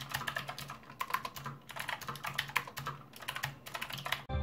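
Rapid clattering keystrokes on a Tesoro GRAM Spectrum low-profile mechanical keyboard with light switches, steady close typing rhythm with brief pauses and a final louder clack.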